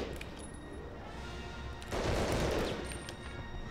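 Gunfire in the Medal of Honor: Underground video game, a steady low crackle that swells into a louder, denser burst partway through before easing back, no talking.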